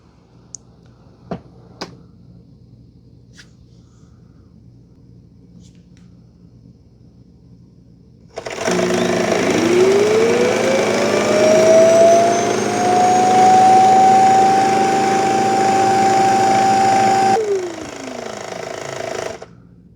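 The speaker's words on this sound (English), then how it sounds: "everything that the dustbin picked up is going to get sucked out into a chamber that we can empty out about once every month and a half or so" Shark Matrix Plus robot vacuum dock emptying the dustbin: after a few faint clicks, a loud steady suction roar with a rising whine starts abruptly, runs about nine seconds, then drops to a lower tone and stops.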